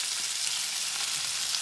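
Bacon sizzles steadily in a pan on a home kitchen stove, a continuous bright hiss of frying fat with faint crackles, close and even throughout with no talking.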